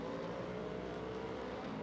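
Pro 4 off-road race trucks roar continuously at the Crandon World Championship, a dense, steady engine blare heard faintly from a distance.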